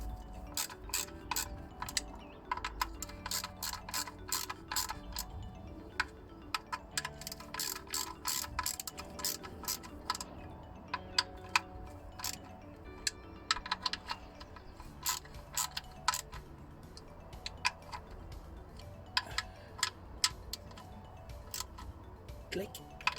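A hand ratchet clicks steadily while tightening the oil level sensor bolts on a BMW E60 with the M47 diesel engine, giving dense, sharp metallic ticks in bursts, close to the microphone, with a few pauses between strokes.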